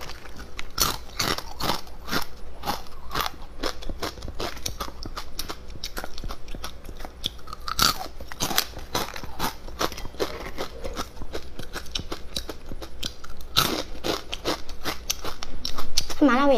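Crunchy spicy octopus-shaped snack being bitten and chewed in close, repeated crisp crunches spread through the clip, with a louder burst near the end.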